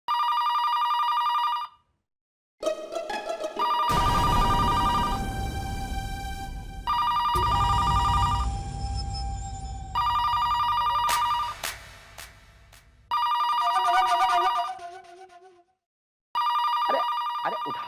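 A telephone rings loudly in repeated bursts of electronic trilling, broken by short silences, with dramatic music stings and swooshes in between.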